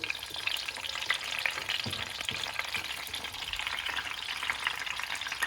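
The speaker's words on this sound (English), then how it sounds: "That's the sizzle." Food sizzles and crackles steadily in a hot frying pan, with occasional stirring clinks, close up and without talking.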